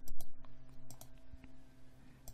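Fast, light clicking from a computer mouse and keys while working in an Excel spreadsheet, a close, irregular run of small dry ticks over a faint steady hum.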